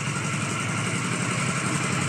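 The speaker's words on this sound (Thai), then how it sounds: "รถไถเบาแก้วจะขึ้นบ่นะ" A tractor engine idles steadily, a loud, close, continuous diesel drone with a rough low throb and no change in pace, with no voices over it.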